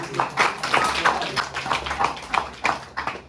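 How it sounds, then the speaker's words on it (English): Classroom of students clapping to welcome a fellow student, a busy patter of hand claps spread across the room, fairly close and steady throughout with faint voices underneath. "So let's welcome him with a clap."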